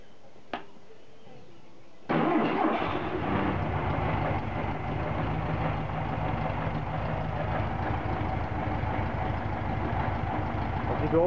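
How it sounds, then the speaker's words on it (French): Air-cooled Volkswagen Beetle engine fitted with an aftermarket ignition module: a brief click, a short quiet pause, then the engine catches abruptly and settles into a loud, steady, rumbling idle that runs on alone to the end. "Voici donc le démarrage avec le module quartier branché."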